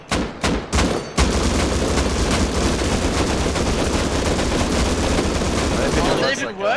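Rapid automatic gunfire from the game Rust plays as loud, dense sustained bursts after a few sharp opening shots. Players shout excitedly over the shooting.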